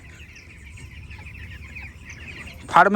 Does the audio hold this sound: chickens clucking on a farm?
yes